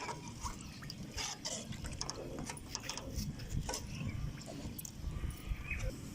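Water poured into a pot of rice and spices for chicken yakhni pulao, a steady close pouring and trickling with faint drips, no talk over it.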